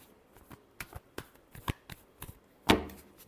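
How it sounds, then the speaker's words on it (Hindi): Tarot cards being shuffled by hand, a quick series of crisp riffling flicks ending in one louder, longer snap, close up with no talk. "Last shuffle."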